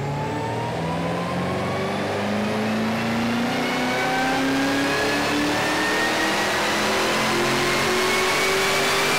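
A Holden VF GTS car's supercharged LSA engine, with a Stage 2 upgrade, revs continuously under heavy load on a dyno, its pitch climbing steadily and loud throughout, held at full throttle on rollers.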